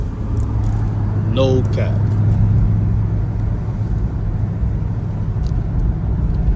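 Steady low exhaust rumble from a 2022 Dodge Charger Scatpack Widebody with a mid muffler delete, idling loud and close while someone talks briefly over it.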